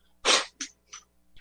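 A man coughs close to the microphone: one strong rasping burst followed by two shorter, weaker coughs, with no talking.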